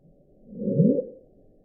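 The Bloop, an ocean infrasound recording sped up 16 times with noise reduced: a short, low rumbling swell with a faint rising sweep, heard alone and cleaner than the noisy version, fading in and out within about a second.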